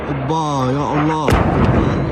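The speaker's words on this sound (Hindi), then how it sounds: "قصف يا جماعة الآن" Bombardment in Gaza: a voice speaks, then a single sharp explosive blast hits, followed by a rumbling, noisy decay.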